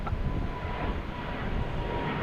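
A PAL airliner landing at Boston Logan Airport: a steady, loud broadband jet roar with engine rumble, heard from a distance with no talking.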